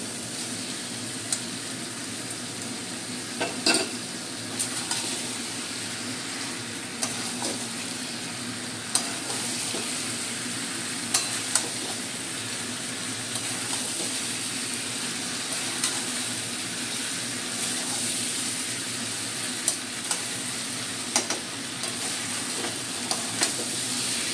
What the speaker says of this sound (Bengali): আমি মশলাটা ভালো মতো কষিয়ে নিয়েছি। এবার আমি এঁচোড়টা দিয়ে দেবো।